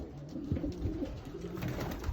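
Young racing pigeons and yearlings coo in a loft, with soft overlapping low warbling calls repeating steadily throughout at moderate level.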